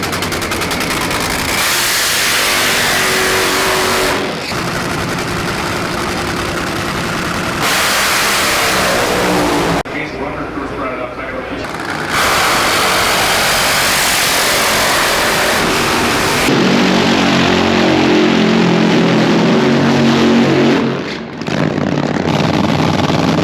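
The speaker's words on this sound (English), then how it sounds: "now it is time to run the dragster" A loud dragster engine roars and revs continuously, harsh and close, with abrupt shifts in pitch and intensity and rattling bursts; no one speaks.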